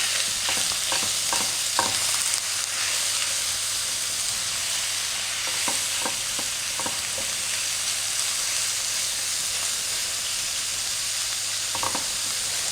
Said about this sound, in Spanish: Ya tengo bien caliente la sartén y pongo el tocino